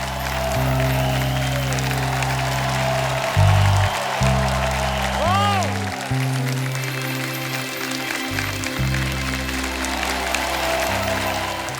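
A studio audience on a TV comedy talk show applauds a guest coming on stage, with steady clapping mixed under loud, pulsing music for about twelve seconds.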